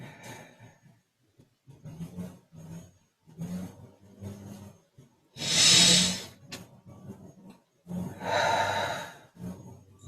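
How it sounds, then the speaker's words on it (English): Slow, deep breathing during a guided breathing meditation: two long, loud airy inhales stand out among softer breaths and pauses, close to the microphone with no talking. "Just breathing it in"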